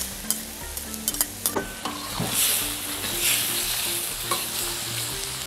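Garlic sizzles in a pan with shrimp and squid rings, a steady fry broken by sharp scrapes and clacks of stirring, close and fairly loud with no talk.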